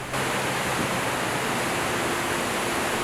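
A steady, dense roar of water pours without a break at Victoria Falls on the Zambezi River, a massive African waterfall, loud and continuous with no voices.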